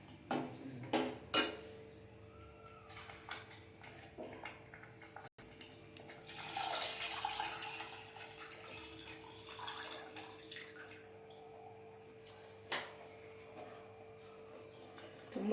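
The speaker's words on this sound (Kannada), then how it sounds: "ಇವಾಗ ನಾವು ಇದಕ್ಕೆ ಹುಣಸೆಹಣ್ಣು ನೀರು ಹಾಕ್ಬೇಕು ಫ್ರೆಂಡ್ಸ್." Tamarind water poured into a pot of fish head sambar, a soft liquid splash and trickle with faint drips and pan clatter, fairly quiet with no talking.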